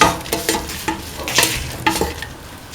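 A lentil stew with bell pepper and coconut milk being stirred and sautéed in a hot pan, with a continuous sizzle broken by several scraping strokes of a spoon, close and fairly loud, with no talking.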